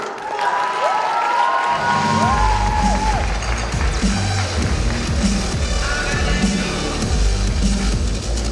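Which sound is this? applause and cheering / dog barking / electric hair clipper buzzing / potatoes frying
applause and cheering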